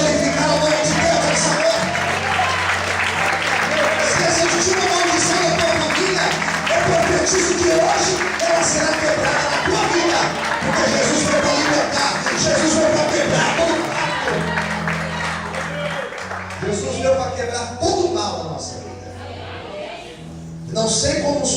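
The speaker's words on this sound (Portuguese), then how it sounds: "Quantos podem aplaudir e glorificar o nome de Deus nessa noite?" Loud congregation applause in a church, sustained clapping with cheers and shouts under amplified voices and sustained music tones, continuing for about twenty seconds before easing slightly.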